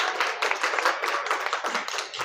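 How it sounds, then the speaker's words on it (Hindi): An audience at a pre-Diwali celebration claps to welcome a guest, a steady, dense patter of many hands with slight rhythmic pulses, moderately loud and heard alone. "तो तालियों से उनका स्वागत करें।"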